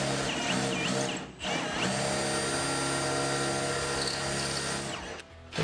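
A power drill grinds steadily through metal on a 1964 Chevelle El Camino, the bit binding and the motor straining, with a brief cut-out partway through and another near the end.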